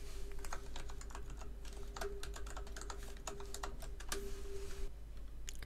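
Quick bursts of keystrokes clatter on a computer keyboard, close and fairly quiet over a low steady hum, with irregular taps and short pauses throughout.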